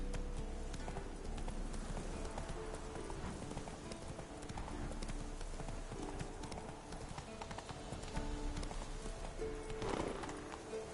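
Hooves of Roach, the horse in The Witcher 3: Wild Hunt on PS4, clip-clop in a steady rapid gallop, with game ambience and music underneath throughout.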